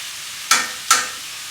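Two short bursts of hissing sizzle as ahi tuna sears and is turned in a pan, each flaring up suddenly then fading, over a quiet steady background hiss.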